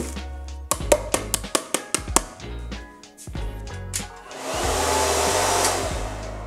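A quick run of sharp taps and knocks gives way to a hair dryer's steady, loud roar that continues to the end.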